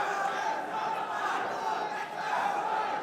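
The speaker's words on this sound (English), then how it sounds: "The crowd getting behind both these fighters." A crowd at an amateur 155 lb MMA contest cheers and shouts continuously, a dense roar of many voices heard at moderate distance.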